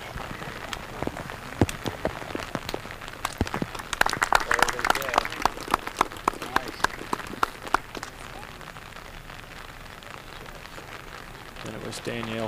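Rain falling on a golf course during a women's amateur golf event, a steady hiss of drops with scattered sharp pattering taps, denser in the middle, heard outdoors at moderate level.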